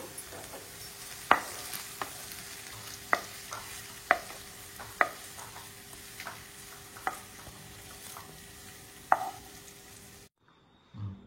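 Paneer curry fries in a pan, a soft continuous sizzle under sharp, irregular clicks and taps of a utensil stirring against the pan, close and quiet, stopping abruptly near the end.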